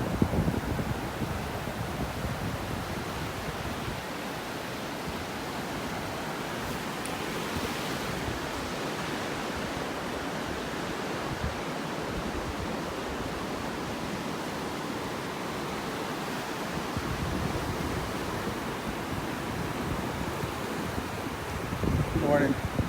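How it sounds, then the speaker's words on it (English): Ocean waves washing onto a beach in North Naples, Florida, on a morning walk: a continuous broad rushing surf with gentle swells and no clear breaks, moderately quiet. "it sure is nice, the sound of these waves out here this morning"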